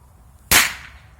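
One sudden, loud firecracker bang close by, ending in a brief fading crackle against quiet outdoor background.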